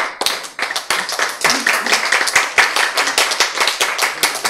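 An audience at a health lecture claps in quick, rhythmic unison, loud and close, forming a steady patter of sharp hand claps throughout.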